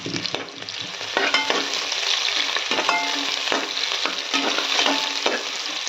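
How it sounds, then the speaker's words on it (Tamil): Chopped onion and a green chilli sizzle and crackle steadily in hot oil in a pan, with a spatula scraping and stirring through them in irregular close strokes, and no voices. "இப்போ ஆனியன் போட்டுக்கலாம். பச்சை மிளகா ஒன்று போட்டுக்கலாம். இதை நல்லா வணக்கிக்கலாம்."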